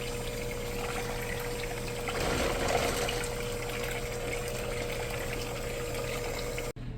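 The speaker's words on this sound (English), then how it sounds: "we're going to mix all of this until it's pretty well combined" A steady mechanical hum runs throughout with a sloshing, liquid churning underneath, swelling briefly midway, as an electric mixer on low speed works thin liquid pudding for banana pudding.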